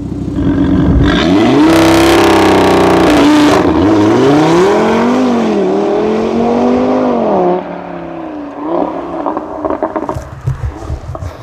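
An Audi RS3 with an ABT Stage 1 tune launches from a standing start, its engine note loud and close, rising through a long sustained rev sweep with gear-change dips before fading into quieter roar and then falling off.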